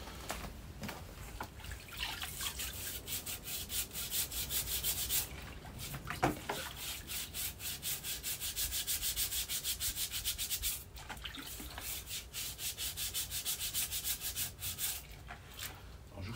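Rusty keys cleaned in vinegar are rubbed briskly by hand, giving rapid repeated scrubbing and rasping strokes, close and fairly faint, with a couple of brief pauses and no talk.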